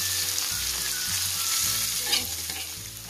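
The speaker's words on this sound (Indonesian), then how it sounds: "Kita tumis sapa dia ke kuning eh bawang kita tu deh." Onions, garlic and green bird's-eye chilies sautéing in oil in a pan, a steady close sizzle with rhythmic stirring and scraping, no talk.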